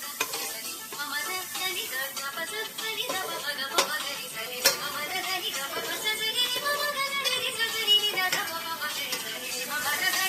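Wheat rava (godhumai rava) roasts and is stirred in a pan, with continuous dry sizzling and scraping and repeated light utensil strokes across the pan at a steady level throughout.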